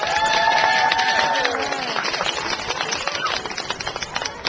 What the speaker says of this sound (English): Please give a warm round of applause for Perry Chen